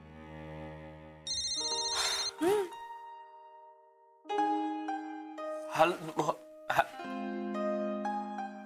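A phone ringtone plays in repeated melodic bursts, with short coughs and throat sounds breaking in between the rings.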